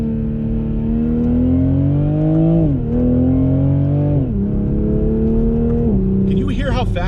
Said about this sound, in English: Can you hear how fast that transmission shifts?